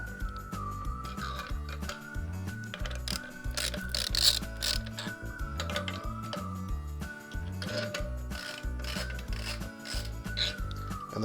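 A wrench loosens the manifold nut on a twinset scuba cylinder setup, producing dense, steady metallic rubbing and ratcheting scrapes that run continuously and fairly close throughout.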